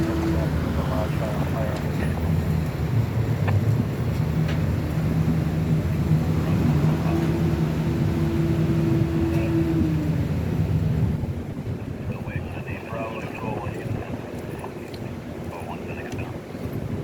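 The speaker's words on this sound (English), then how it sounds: "The wind blowing doesn't really help a lot either." Strong wind buffeting at a construction site where a big crane is being finished in the Fenway, a loud steady roar with low machinery hum, easing partway through, while someone talks.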